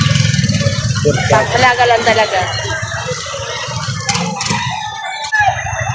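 A short, stocky display chicken kept as a pet at a market in Lipa City, Batangas, crows and clucks nearby while people talk over it.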